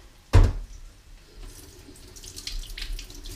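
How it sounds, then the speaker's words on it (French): Tap water runs into a kitchen sink as hands are rinsed, opening with a sharp knock and then a soft, steady splashing stream nearby with no one speaking. "Je vais me rincer les mains à côté."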